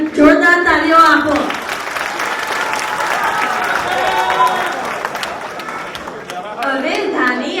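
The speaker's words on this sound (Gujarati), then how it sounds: "લોકોના માટે જોરદાર તાળીઓ આપો." Audience applause at a Swaminarayan Hindu temple culture program, a sustained crowd clapping with chatter, bracketed by a voice talking over a loudspeaker at the start and end.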